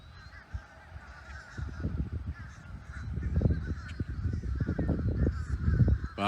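A flock of crows or ravens caws and honks on a Florida golf course, with harsh, overlapping calls that grow denser and louder as the clip goes on, heard outdoors at moderate distance.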